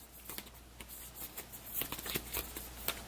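Playing cards being shuffled during a tabletop game of Disney Animated, heard as a quiet run of crisp riffling flutters in irregular bursts, close by with no talking.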